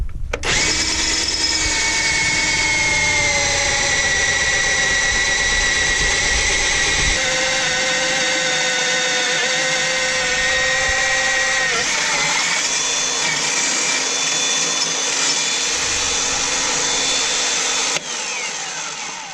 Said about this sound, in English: Hard to argue with no pilot hole. That's just running that straight 1/2-inch bit.